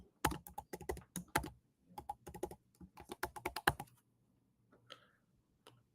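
Someone types a username and password for a virtual machine on a computer keyboard: close, crisp bursts of rapid key clicks for about four seconds, then near silence with a couple of faint stray taps.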